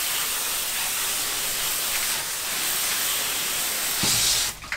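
Steady hissing rush of water hosed over a fish-cleaning table after scaling ladyfish, constant and fairly loud, ending in a brief clatter.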